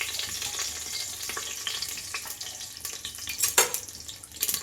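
Bay leaf, peppercorns and cloves sizzle in hot coconut oil for a beef biryani, a steady close crackle of frying with scattered pops and spatters throughout.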